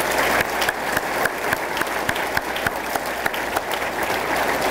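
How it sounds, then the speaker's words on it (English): Audience applause at a fire and rescue awards and recognition ceremony, steady loud clapping from a crowd that carries through the whole stretch with scattered sharper claps standing out. "please give them a round of applause for what they did this evening."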